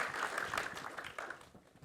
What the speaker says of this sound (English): If I could have a quick round of applause again for our panelists here